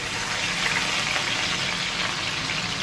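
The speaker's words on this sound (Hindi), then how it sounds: "लहसुन अदरक डाल रही हूँ।" Garlic and ginger sizzle in hot oil at the start of a potato and pea curry, a loud, steady frying hiss that holds unbroken throughout with no talking.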